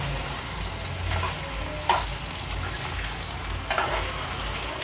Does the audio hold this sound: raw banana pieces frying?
yes